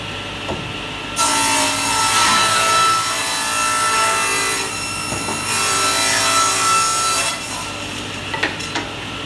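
Handsaw cutting wood laid flat, two long bursts of rasping back-and-forth strokes with a brief pause between them, close and fairly loud, ending with a few light taps.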